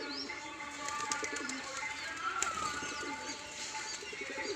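Domestic pigeon flapping its wings as it lands in a backyard loft area, brief wingbeat bursts over soft cooing and chirping from other birds, with steady background ambience.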